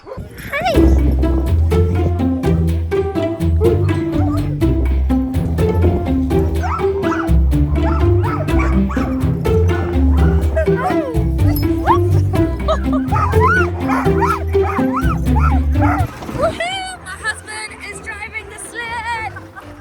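A team of sled dogs in an Arctic town barks, yelps and whimpers continuously and loudly, many overlapping excited voices up close, tapering off near the end as they quiet down.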